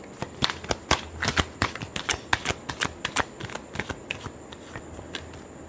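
Tarot cards are shuffled by hand, a close series of crisp riffling snaps and slaps in quick irregular bursts, with no talking.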